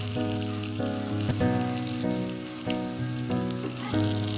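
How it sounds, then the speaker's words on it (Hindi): Burger kebab patties fry in a pan with a steady, soft sizzle that runs the whole time beneath louder tonal music, with no clear pops standing out. "इसको पलट लें और दूसरी साइड से भी फ्राई कर लें"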